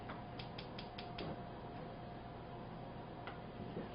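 Chocolate pastry cream whisked in a pan over medium heat as it nears a simmer, giving a steady close scraping and rattling of the whisk with a few sharper clicks at the start, no talking.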